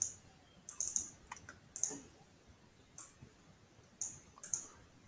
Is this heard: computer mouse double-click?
yes